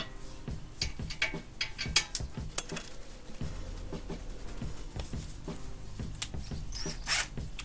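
A wrench working the brake caliper bolts on a Nissan Sentra, quick ratcheting clicks and small metallic taps arriving in scattered bursts, close and fairly quiet.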